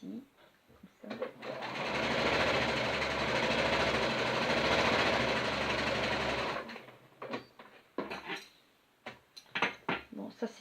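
A sewing machine stitches a baby dress in white thread, running in one steady loud burst for several seconds, with handling clicks and rustles before and after.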